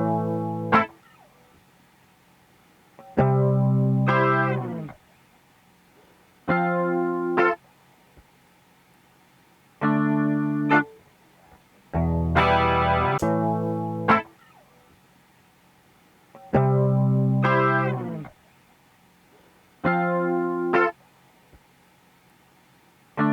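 Short bursts of effected musical tones separated by silences, thick and shimmering with a wavering, doubled quality, repeating in a steady pattern.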